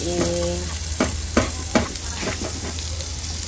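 Chicken and vegetables fry with a steady, loud sizzle in a pan, broken by several sharp scraping stirs and a low hum underneath.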